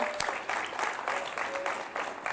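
Audience applause at a school Arbor Day event at William B. Orenic Intermediate School in Joliet, Illinois: a steady, moderately close wash of clapping that swells in waves across the whole stretch.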